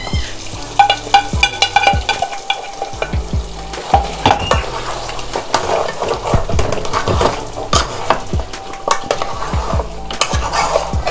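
Whole spices and browned fried onion crackle and sizzle in hot mustard oil as a tempering for beef kala bhuna, with steady frying hiss, repeated spoon scrapes and clinks against the pot throughout, no voices.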